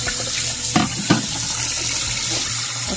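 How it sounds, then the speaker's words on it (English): A kitchen tap runs cold water into a cup of ice, a steady close hiss of flowing water with a couple of faint clinks near the start. "I'm going to add cold water,"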